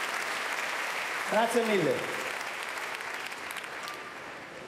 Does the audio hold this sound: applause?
yes